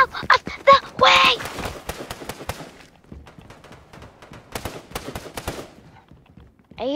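Rapid bursts of gunfire in an escape room prison video game, a quick sequence of sharp cracks followed by scattered shots, with a honking, quacking sound early on and loud digital effects.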